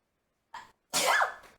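A single sharp sneeze, loud and close, preceded by a brief short intake of breath, heard during a Fallout 4 live gaming session.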